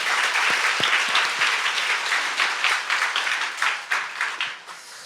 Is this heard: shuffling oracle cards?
no